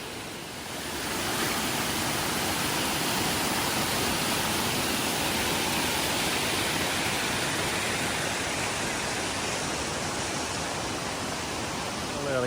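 The Rock Garden waterfall in Darjeeling roars as a loud, dense, unbroken rush of falling water that swells in after the first second and fills the whole scene.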